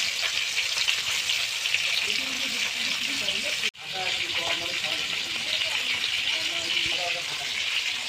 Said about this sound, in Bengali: মাছ ভাজা হচ্ছে আমাদের দেশি পদ্ধতিতে আর কি